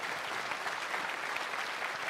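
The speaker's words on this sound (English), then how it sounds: "Give them a big round of applause," Applause from a crowd after a GT World Series race round in Berlin, a steady, dense wash of clapping held at an even level throughout, with no voices standing out.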